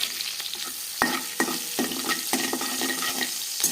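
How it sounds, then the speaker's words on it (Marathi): Green chillies fry in hot oil for a fasting khichdi, a bright continuous sizzle punctuated by several sharp spatula scrapes and taps against the pan at irregular intervals, close and fairly loud. "तेलात मिरच्या परतून घेतली मस्त."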